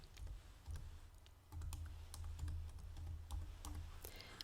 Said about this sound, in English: Type in a useful name.